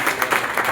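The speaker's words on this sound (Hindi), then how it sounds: "इन लोगों के लिए तालियां" A crowd applauds for students at a gathering, a brief burst of dense, continuous clapping at fairly strong level with slight pulsing.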